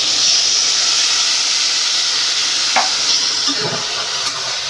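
Egg curry with vegetables and added water in a pan, a loud steady hiss of steam and simmering with a couple of brief stirring scrapes, no talk.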